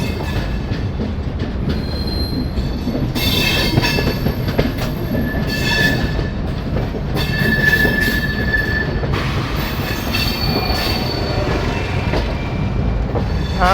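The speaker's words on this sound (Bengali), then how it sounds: "বীরাঙ্গনা লক্ষ্মীবাই ঝাঁসি থেকে ট্রেন ছেড়ে দিয়েছে" Chambal Express pulling out of Jhansi behind an ALCO locomotive, rolling wheels rumbling steadily with repeated high metallic squeals from the rails, loud and close with no talk.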